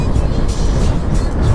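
A box truck speeding along a road at night, heard as a loud, steady roar of engine and road noise from close by, with a voice talking over it.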